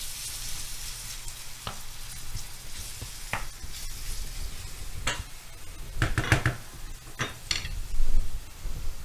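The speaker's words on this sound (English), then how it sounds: "I hear sizzling, so that's great." Pierogi frying in a pan give a steady close sizzle, with occasional clinks and scrapes of a utensil against the pan that grow busier toward the end; no one speaks.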